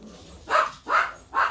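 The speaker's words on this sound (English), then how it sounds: "Sorry about the dogs." Dogs bark indoors during a quilting session, three separate loud barks spaced evenly about half a second apart, fairly close, with no talking over them.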